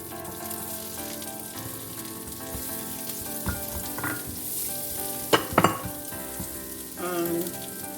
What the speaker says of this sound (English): I'll saute the onion for 2 to 3 minutes before adding other vegetables.